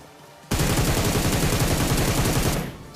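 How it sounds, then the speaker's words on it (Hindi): A Groza assault rifle from PUBG fires in one loud, continuous rapid burst of about two seconds, heard up close with no talking. "दे दनादन ग्रोजा का फायर"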